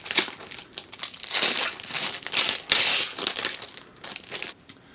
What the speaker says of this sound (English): So we're just going to peel open this packaging.